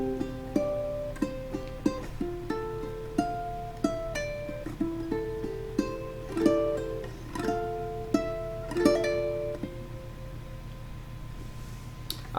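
A ukulele plays the intro of a song as a quiet, clean run of plucked notes and strums over a faint steady hum, with no voices.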